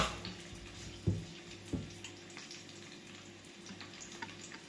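Garlic and onion fry in a pan on a stove, with a soft steady sizzle and two sharp clatters near the start.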